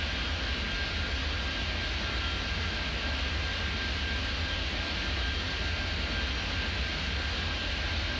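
An airplane arriving at an airport in Airport Madness 3D makes a steady, loud engine roar with a faint high whine. It holds constant throughout with no voices.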